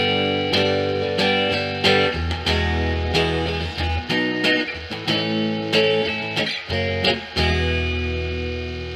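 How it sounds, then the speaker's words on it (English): Loud, dry notes and chords sent through a spring reverb tank that adds almost no reverb, each struck attack cutting off cleanly with a distorted, buzzy edge and no lingering tail. "There's almost no reverb at all in this reverb tank."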